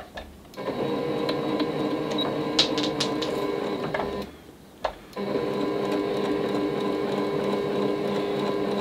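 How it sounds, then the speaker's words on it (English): A sewing machine stitches a quilt, running in a steady continuous whir with a brief pause partway through before resuming, close and fairly loud with no talking. "I'm going to stitch a little bit back stitch just to anchor that stitch down"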